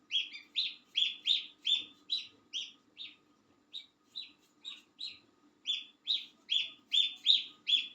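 Small birds chirp and tweet in a home garden, with bright repeated calls coming in quick bursts through most of the stretch, a short pause in the middle, fairly close and clear over a faint low background hum.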